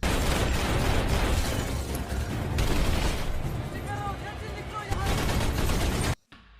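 Gunfire in a Paris-set action film scene, in dense rapid bursts and loud shots over clattering, chaotic noise, continuing until an abrupt cut to near silence.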